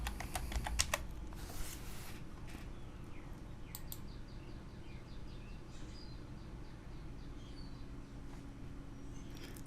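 Quick bursts of computer keyboard keystrokes near the start, typing a word into a search box, then a low steady room hum with a few scattered clicks.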